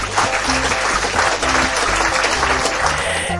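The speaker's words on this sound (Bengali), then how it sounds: "হাততালি।" A crowd claps together, steady dense applause that carries on loudly for the whole stretch with no pause.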